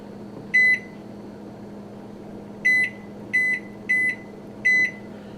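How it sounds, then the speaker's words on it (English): A steady low hum of a microwave oven cooking nachos, broken by five sharp electronic beeps, one early and four more in a quick cluster near the end. "first time cooking the nachos in the new microwave."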